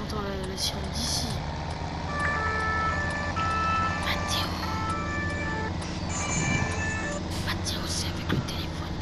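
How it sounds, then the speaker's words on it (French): An emergency siren in Farming Simulator 17 wails steadily under loud engine rumble and game noise, with occasional beeps layered on top. "J'entends la sirène d'ici."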